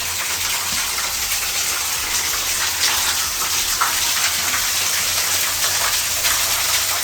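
A small waterfall in the Red River Gorge, Kentucky, pours with a constant, loud, broad rushing hiss of flowing water close by, steady throughout with no voices.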